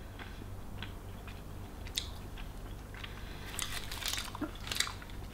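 Salted caramel protein bar with a thin chocolate coating being chewed up close, soft crunchy bites and wet chewing scattered over several seconds, with a few sharper crunches near the end and no talk.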